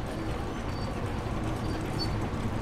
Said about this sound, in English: footsteps and it's like the most unsettling noise